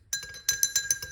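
Spoon clinking against a glass while stirring apple cider vinegar into water, a series of bright metallic taps in quick uneven bursts, close and fairly quiet with no talking.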